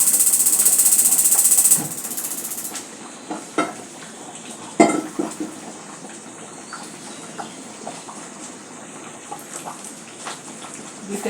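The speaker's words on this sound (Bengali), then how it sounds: "এখন প্রথমে চুলাটা জ্বালাবো।" A gas stove burner is lit in a home kitchen: a loud, steady rush of gas hisses for about two seconds and cuts off, followed by scattered light clicks and knocks.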